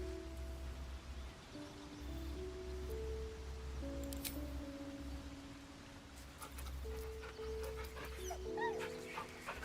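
In the video game Baldur's Gate, a dog whimpers and yips softly in repeated high, wavering whines over a quiet background of light rain-like hiss and a low hum, with no talk.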